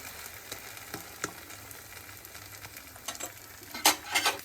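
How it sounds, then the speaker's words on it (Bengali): A potato-stuffed paratha sizzles softly in a pan while being pressed down, a low steady frying hiss with occasional soft taps and brief louder crackles near the end, no voices. "এরকম সুন্দর একটু চেপে চেপে ভেজে নিলে খুব সুন্দর হয় এই পরোটাটা"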